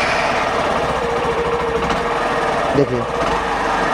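A Hero Passion BS6 motorcycle with an RPM fluctuation fault, which stalls after a few kilometres, runs with a steady close engine chug and a brief change in tone near the end, while someone talks loudly over it.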